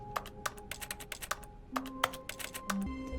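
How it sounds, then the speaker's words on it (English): Typing on a computer keyboard: quick, uneven bursts of close key clicks and taps, loud and on their own, with a soft tone from a video game underneath. "I'm just typing"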